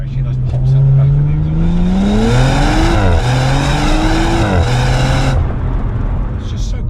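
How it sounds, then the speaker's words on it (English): A 2020 Audi RS4 Avant accelerates hard close by, its engine note climbing steadily through two gear changes, with crackling exhaust pops mixed into the loud, continuous roar. "One more acceleration, those pops out the back of"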